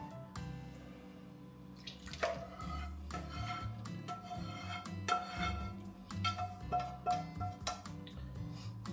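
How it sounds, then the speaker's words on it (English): Spicy crab and shrimp pasta sauce being poured and scraped into a pan, with repeated clinks of metal utensils, wet splashes and a light clattering rhythm at close range. "I'm going to transfer my sauce to this pan."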